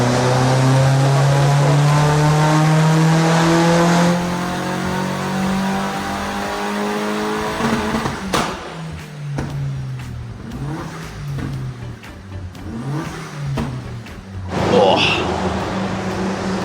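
A VW Fox GTI engine revs hard on a dyno power run, climbing steadily in pitch through the gears, loud and close, then dropping back to an idle with a few blips while people talk over it.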